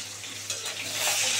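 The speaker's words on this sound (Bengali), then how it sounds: "এই দেখো পুরো সব মাছ কড়া করে ভাজা হয়ে গেছে।" Fish frying in hot oil in a pan, a dense, close sizzle that swells louder toward the end, with faint stirring or utensil contact.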